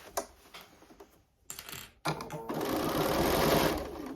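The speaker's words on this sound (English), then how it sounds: "let's bring in the outer, and we're just going to stitch those as well" A sewing machine stitches fabric for a handmade gift, starting with a few quiet clicks and short stops, then running in a steady, close, busy mechanical whir with no talking.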